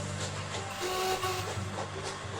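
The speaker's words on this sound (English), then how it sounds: "Donald's driver had just returned when they heard an unfamiliar whistle." A steam engine lets out a short, unfamiliar whistle, a thin tonal note lasting about a second over a steady rumbling railway background.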